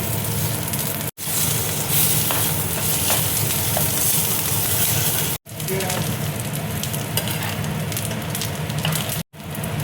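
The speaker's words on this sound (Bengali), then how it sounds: "এবার দেখো কারি পাতা দিয়ে দিচ্ছি" Curry leaves fry in hot oil for coconut chutney, giving a loud, dense, continuous sizzle and spatter close by, broken by two or three short drops to silence.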